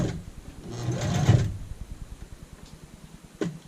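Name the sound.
sewing machine edge stitching apron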